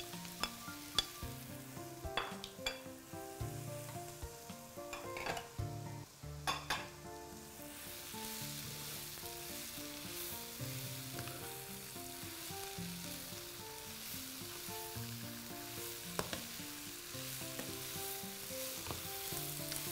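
Spinach and sun-dried tomatoes cook in a hot pan, giving a steady, close sizzle and crackle throughout with scattered sharp pops, over a continuous tonal background.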